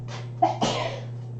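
One close indoor sneeze, a short sharp inhaled catch followed by a forceful burst that fades quickly, set against a low steady background hum.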